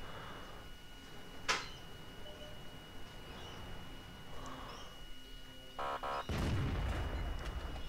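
Tank shell impact in a tank battle game, a sharp, fairly quiet crack over a low engine drone, followed later by rattling mechanical clanks and a louder rumbling thud.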